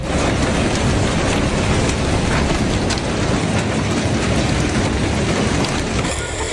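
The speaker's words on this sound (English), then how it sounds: "A powerful hailstorm hit northern parts of Florida on Friday afternoon and evening" Loud, dense roar of a hailstorm in Nanjing, China, heavy hail pelting and rushing wind blending into a continuous wash of noise, unbroken throughout.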